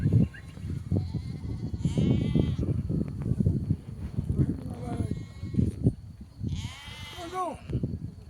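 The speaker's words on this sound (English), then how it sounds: "Look at those goats. They're waiting for their turn to be milked." Goats on a traditional farm, waiting their turn to be milked, give a few wavering bleats, at times near and at times farther off, under steady chatter from people talking nearby.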